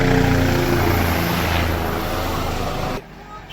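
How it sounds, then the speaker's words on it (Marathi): A helicopter circles over festival grounds during a Panchkalyan celebration, its rotor roar loud and broad against gusting wind, then fading sharply after about three seconds. "हे बघा इथून हेलिकॉप्टर उडते आणि गोल गोल फिरताय"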